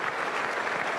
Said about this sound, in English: And the crowd that have been so generous in their support of everything that's happened stand and applaud